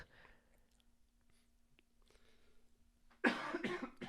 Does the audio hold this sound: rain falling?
no